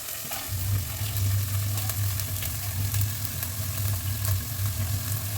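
Washed mung beans going into onions frying in oil, with a close, constant sizzle and crackle over a low steady hum from the stove, and scraping from stirring throughout.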